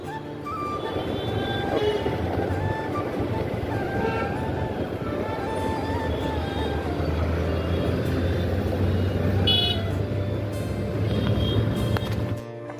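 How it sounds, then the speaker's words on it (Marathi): Busy road traffic rumbles steadily, with a dense engine drone and tonal hum and a few faint horn-like tones over it. No one speaks. "ट्रॅफिक आहे ना, समोर रोड पॅक आहे"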